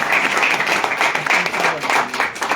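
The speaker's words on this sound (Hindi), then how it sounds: "इनके लिए जोरदार तालियां" Dense, sustained applause from an audience at a business plan event, a steady wash of many hands clapping loudly throughout with no pauses.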